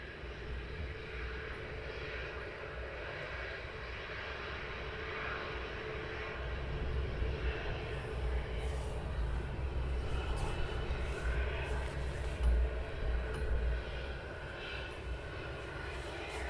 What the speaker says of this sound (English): there we do have a Ryanair on approach as well, coming in from Dublin.